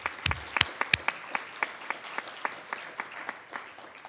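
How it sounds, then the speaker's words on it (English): An audience applauds award winners in the large media category at a disability reporting awards ceremony, with irregular sharp claps over a steady wash of applause that fades slightly toward the end. "Let's give one more round of applause to all the winners in the large media category."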